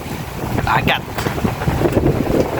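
Strong, unusually forceful coastal wind roars and buffets the microphone over a wash of waves, a steady rushing noise filling the clip with only brief lulls.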